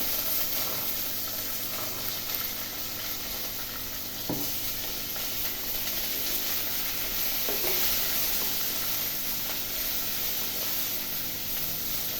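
Green beans frying and being stirred in a pan with browned aromatics, a steady close sizzle with occasional scraping stirs, no talking.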